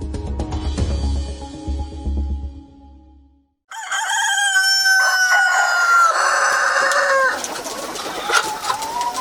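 Local chickens on a farm in Nepal, with low clucking at first, then a brief pause, then a rooster crowing loudly and close, followed by more clucking and crowing.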